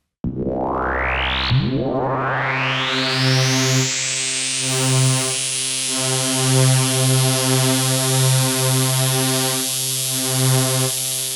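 Prophet Rev2 synthesizer tone with an FM patch layered under a softer sawtooth layer, opening with a rising sweep and then a sustained, buzzing, harmonically rich chord that pulses gently in level, played alone.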